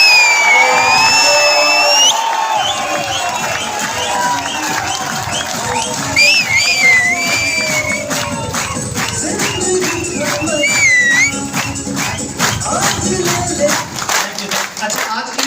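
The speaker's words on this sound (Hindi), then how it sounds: "तो मैं चाहता हूं सर एक बार आज के प्रोग्राम की जोरदार तालियां, सीटियां" A meeting crowd at a network-marketing business event bursts into loud cheering, whoops, whistles and clapping, a dense roar that rises after a couple of seconds and carries on through the whole stretch.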